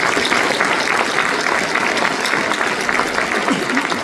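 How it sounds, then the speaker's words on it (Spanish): Audience at a book presentation breaks into steady, sustained applause, a dense clapping wash lasting the whole stretch. "Regálense un aplauso, por favor."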